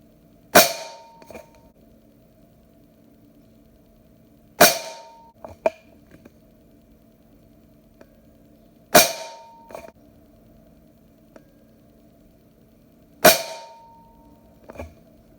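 Benjamin Marauder air pistol firing JSB Hades pellets at a 30-yard target, four sharp, loud cracks spaced roughly four seconds apart, each followed by a faint distant tick of the pellet striking, with quiet between shots.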